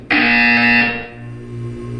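Buzzer in the Portal 2 video game, a single loud, harsh electronic tone held for about a second, then dropping to a quieter lingering hum.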